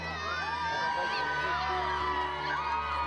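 Crowd applauding and cheering to welcome the queen, the Dutch monarch, outdoors in Haarlem, with a dense wash of clapping, children's shouts and whoops throughout.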